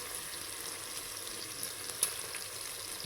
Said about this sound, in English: Frying the onions and the peppers